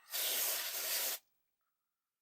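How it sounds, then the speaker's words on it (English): Electronic contact cleaner sprayed close up into a chip socket on a Commodore 64: one steady, loud hissing burst lasting about a second, then silence. "I'll spray a little more stuff"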